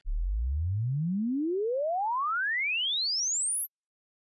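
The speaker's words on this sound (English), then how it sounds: "we have a sine wave, a sweep from a very low frequency to a very high frequency" A pure sine-wave tone sweeps smoothly upward from a deep low hum to a piercing high whistle over about four seconds, played in a chapel, then cuts off to silence.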